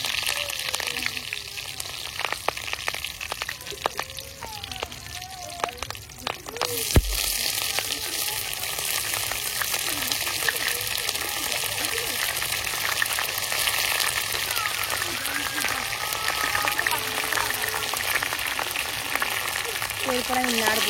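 Aparajita (butterfly pea) flowers, neem leaves and hibiscus flowers sizzle and crackle steadily in hot oil while an Ayurvedic hair oil is being made, a dense continuous frying hiss close by, with brief speech early on.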